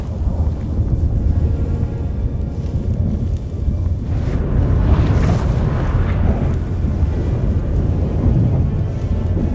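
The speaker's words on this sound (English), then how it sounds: "That a storm?" Stormy rumble from The Witcher 3 video game as a gate between worlds opens: a continuous heavy low roar of thunder and wind, swelling around the middle and sustained loud to the end, with no talk.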